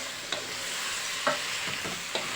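Beef and onions stir-fried in a hot pan for Indonesian rendang, with a steady sizzle broken by a few sharp scrapes and stirs of the spatula, close and alone.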